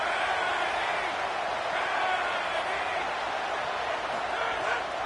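A dense, steady stadium roar from a football crowd in College Football 27 during a third-and-goal stand, continuous and loud throughout.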